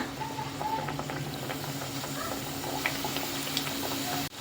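Onion snack pieces dropped one by one into hot frying oil, a steady close bubbling sizzle with small pops and crackles throughout.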